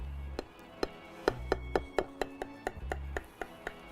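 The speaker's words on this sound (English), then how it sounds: "Just gonna portion it." A knife chops through okonomiyaki on a board with a series of sharp, evenly spaced thuds, about a dozen close, crisp cuts in a steady rhythm with brief pauses, no talking.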